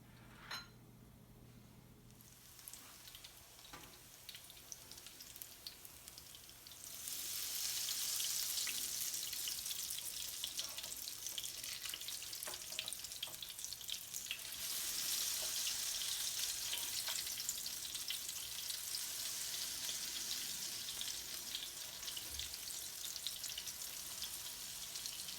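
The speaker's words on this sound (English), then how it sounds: "we're going to flip with the spatula" Curried sweet potato latkes fry in oil in a pan, a steady close sizzle that grows louder partway through after a quieter start and continues unbroken without talking.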